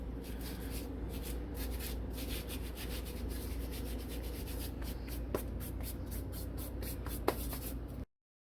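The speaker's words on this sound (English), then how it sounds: "She's gonna just grind it up all up in there." Dried oregano leaves are crushed between the palms for albóndigas, a steady close, dry rustling rub that continues for several seconds with a couple of small crackles before stopping abruptly.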